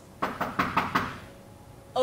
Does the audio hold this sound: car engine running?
no